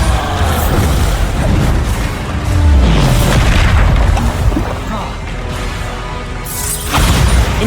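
Bombarda spell explosions in the Hogwarts Legacy video game: a loud, sustained series of booming blasts and crashing impacts, with bursts near the start, middle and end under continuous dense rumble.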